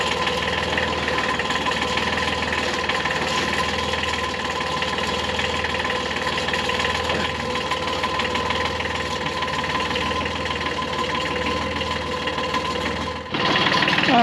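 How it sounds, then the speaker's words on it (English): A homestead tractor engine runs at a steady idle, a close, constant mechanical drone with a faint rattle, cutting off abruptly near the end. "Let me go get my tractor."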